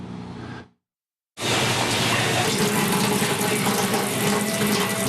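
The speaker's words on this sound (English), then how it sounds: "water is flowing freely again here in Kent County" Tap water gushing strongly and steadily from a faucet, loud and close, after a brief trickle and a short silence.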